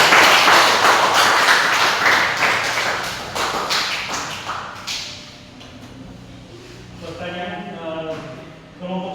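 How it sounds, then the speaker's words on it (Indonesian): A classroom of students in a religious education lesson claps together. The dense, loud clapping fades over about five seconds, and then a voice talks. "Tepuk tangan dulu."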